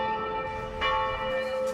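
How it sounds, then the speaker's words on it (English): A heavy cathedral bell in Puebla, Mexico, rung at first light, loud and close with a sustained, shimmering metallic hum and overtones that ring on without pause. "ring the cathedral bell at first light"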